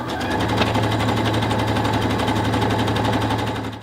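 A sewing machine stitches elastic onto a lace longline bra, a loud, close, continuous rapid chatter that runs steadily for a few seconds and then stops.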